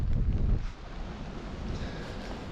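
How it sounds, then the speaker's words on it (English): Strong gusts batter the microphone on a wild Scottish coast, a loud, rumbling low roar that swells and eases without pause. "Whoa, man, it's just gusting"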